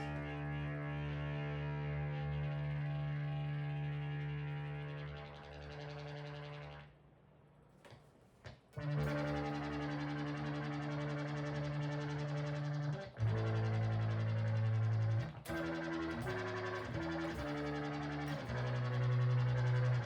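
A sustained synth chord heavily processed with Grind wavetable distortion, gritty and buzzing, cutting out briefly, then returning as new chords shift and stutter, loud and upfront.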